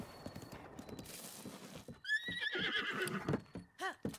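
Rhythmic clip-clop of hooves with a loud, wavering horse whinny partway through, set against a busy game soundscape in Breath of the Wild.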